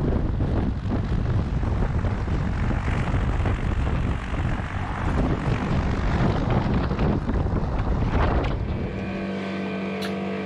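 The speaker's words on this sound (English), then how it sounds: "mix between the propeller noise, the slipstream, and the aircraft noise" A light aircraft's propeller blast, slipstream and engine drone roar steadily and loud close by on a cold day, with wind buffeting, then settle to a steadier engine tone near the end.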